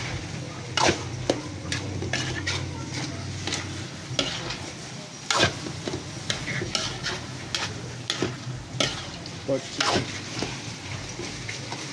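Crumbled pork for sisig frying in a pan, a steady sizzle broken by repeated scraping stirs of a utensil against the metal, close and fairly loud, with a voice talking over it at times.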